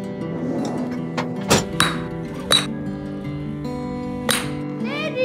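A golf ball struck with a putter outdoors gives a few sharp, light clicks spread over several seconds, each one brief and fairly close, with people chatting around the strokes.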